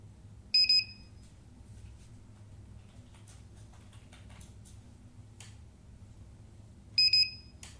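Two short bursts of high electronic beeps from an F450 quadcopter on disarming, one near the start and one near the end, with faint handling clicks and low hum between them.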